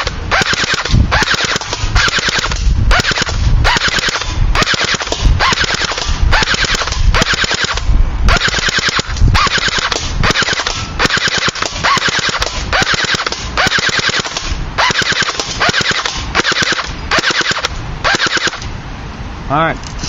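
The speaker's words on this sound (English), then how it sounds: "now let's go full auto" A CYMA CM 027 airsoft rifle firing on full auto, a rapid, loud mechanical rattle of shots in long continuous bursts with brief pauses, close and dominant throughout.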